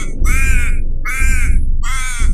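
A raven gives three loud, harsh caws, each about half a second long and evenly spaced, close and isolated over a low background rumble.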